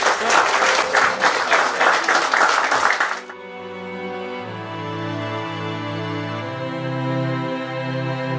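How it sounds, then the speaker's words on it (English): An audience applauds the Joint Commissioner of Mumbai City as inaugurating guest at a UPSC centre opening, loud dense clapping for about three seconds that cuts to a sustained melodic music passage. "Round of applause, please."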